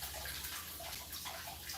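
Water poured over an onion to moisten it gives a steady, close rushing splash that runs unbroken with no voices.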